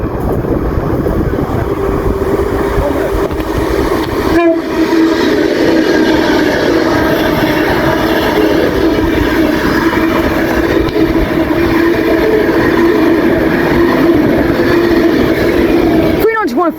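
An Avanti West Coast Pendolino electric train rushes past close by at Milton Keynes Central on the West Coast Main Line, with a loud, sustained roar and whine that fills the whole stretch, ending in a brief squeal.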